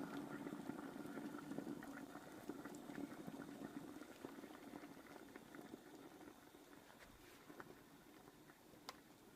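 Soft, steady bubbling and gurgling of water boiling in a handheld fabric steamer, faint and continuous with small pops throughout.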